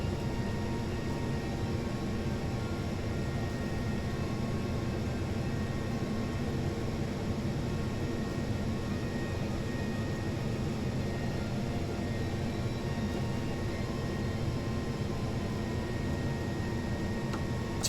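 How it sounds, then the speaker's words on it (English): Jet engines of a spaceplane in Kerbal Space Program drone in a steady, unbroken roar with an airy hiss on top, holding the same loudness from start to finish with no voices. "Should be able to shut the jet engines down."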